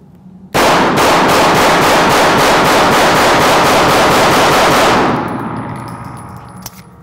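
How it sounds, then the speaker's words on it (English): A Smith & Wesson M&P9 Metal Spec pistol fired at a shooting range, a loud, rapid unbroken string of shots lasting several seconds, then ringing echoes and a few faint clinks as it stops. "we're only shooting 50 rounds out of this gun"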